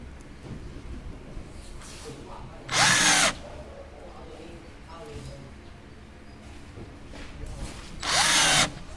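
A power drill drives screws into a multipurpose cabinet (model FC803B) during assembly: two loud, whirring bursts of about a second each, separated by several seconds of quiet room noise.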